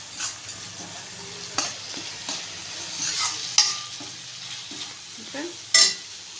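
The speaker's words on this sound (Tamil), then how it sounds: "நல்லா கிண்டுங்க." Egg masala frying in a pan with spices being stirred in: a soft continuous sizzle with scraping stir strokes and occasional sharper clinks of the spoon against the pan, close and without talk.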